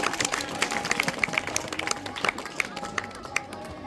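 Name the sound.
applause for a student's exam result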